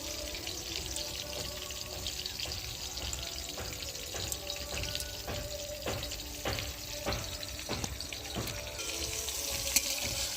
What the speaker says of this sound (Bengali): এদিকে আমার পটলগুলো একবারে ভাজা ভাজা হয়ে গেছে